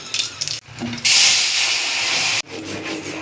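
Chilli, cumin and radhuni hit hot oil for tempering a Barisal-style vegetarian curry of yam, long beans and radish. A few soft kitchen clatters lead into a sudden loud sizzle that hisses for just over a second, then cuts off.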